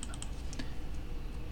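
Keys clicking on a computer keyboard while a short word is entered, a quick run of light taps early on and a couple more later, faint against a steady room hum.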